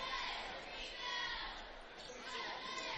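Spectators fill a high school gym at a boys' basketball game on senior night, and their chatter makes a steady, dense murmur throughout.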